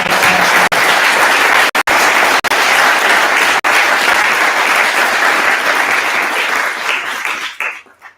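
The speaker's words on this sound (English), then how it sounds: "Could we have another round of applause for everyone who read this?" Sustained audience applause fills a live poetry night memorial event, loud and dense for about eight seconds before tapering off and fading out at the end.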